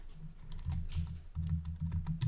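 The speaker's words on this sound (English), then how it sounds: "You just keep clicking and type the word" A computer keyboard clatters with quick, steady keystrokes as a word is typed, light close clicks running in two short bursts with a brief pause between them.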